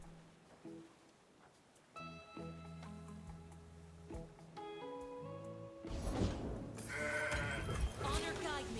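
In the card game Legends of Runeterra, a goat bleat effect sounds late, loud and wavering, after a run of plinking game tones, with a voice talking underneath.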